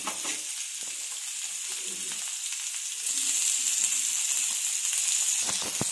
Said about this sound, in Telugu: ఈ మూడు కూడా మగ్గిన దాకా వేయించుకోవాలండి